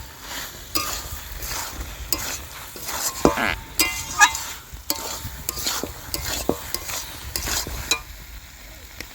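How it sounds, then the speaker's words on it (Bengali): Fried potatoes and drumstick pieces are stirred into sizzling spice paste, with a steady fry hiss under repeated scraping clacks of a spatula against the pan; no one speaks. "এইবার ভেজে রাখা আলু আর ডাঁটা আমি মশলার সঙ্গে দিয়ে দেবো। আর একবার ভালো করে কষে নেব।"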